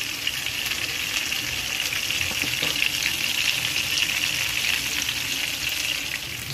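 Loitta (Bombay duck) fish fries in oil in a frying pan, giving a loud, constant crackling sizzle that holds steady throughout with no talking.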